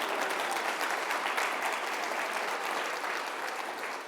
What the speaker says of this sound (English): You can clap, absolutely.